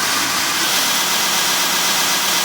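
A Grizzly T32459 2-by-42-inch knife-making belt sander/grinder runs steadily with a constant whirring motor hum and broad airy hiss, close and loud throughout, with no talking.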